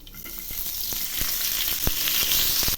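Onions and panch phoron frying in hot oil for a fish recipe, a steady bright sizzle with scattered crackles and pops throughout, close and fairly loud with no talking.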